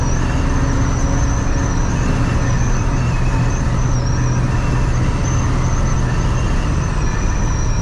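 An all-original 1976 Ford F-250 Custom pickup driving, with a loud steady engine drone and road rumble from inside the cab, continuous and unbroken with no talk.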